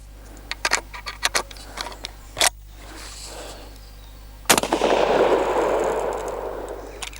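Adler A-110 lever action shotgun firing 6-shot at a target: preceded by metallic clicks and rattles of the lever action, then a single loud blast near the middle with a long fading rumble afterward.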